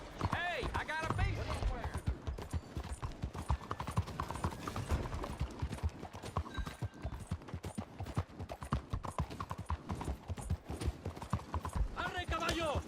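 Horse hooves clip-clop at a gallop in Red Dead Redemption 2, a fast steady rhythm of close, loud hoofbeats that carries through most of the clip, with a voice talking over them.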